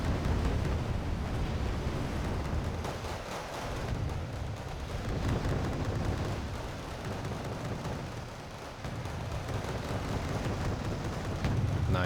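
Airstrike bombs from an RBF bomber detonating in Wargame: Red Dragon, a long rolling rumble of heavy blasts that swells and fades in waves over several seconds, loud and continuous.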